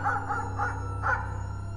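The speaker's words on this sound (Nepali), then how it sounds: "अनि सुदूरमा कुकुर कराइरहेको सुनिन्थ्यो" A distant dog barks in a short series of four yelps over a steady low hum, then quiet, heard as a sound effect in a misty tea-garden setting.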